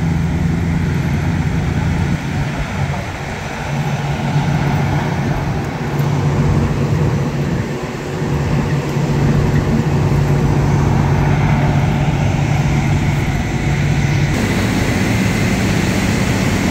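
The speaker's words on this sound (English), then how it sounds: "Live traffic going by." Steady road traffic rolls past a cold in-place recycling paving operation, with a paver hopper working nearby; a continuous, loud rumbling wash of engines and tires persists throughout, without a break.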